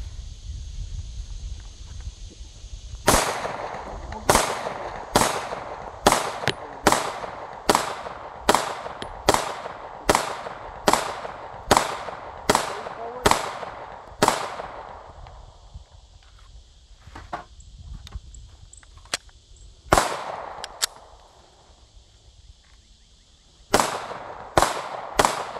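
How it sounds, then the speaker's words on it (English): A Smith & Wesson 459 pistol fires outdoors in a long string of sharp, loud reports at a quick, fairly even pace, a short pause and a few more shots, each crack trailing a brief echo. "Oh, this is a soft shooting gun."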